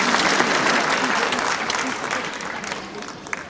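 A large stadium audience gives a sustained round of dense, steady clapping that stays loud throughout and eases slightly toward the end, with a voice faintly audible over it.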